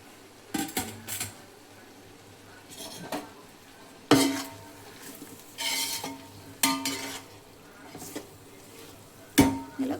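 Tomatoes being stirred into a pot for chicken biryani, with intermittent scraping clinks of a spoon against metal, several separate bursts of stirring over a quiet sizzle.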